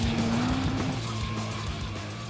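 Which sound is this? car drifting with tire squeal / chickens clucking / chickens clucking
car drifting with tire squeal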